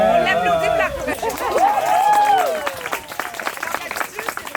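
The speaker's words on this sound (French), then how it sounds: "On l'applaudit pour la prochaine." A live comedy-show audience breaking into scattered clapping toward the end, after a performer's loud voice and other voices talking in the room.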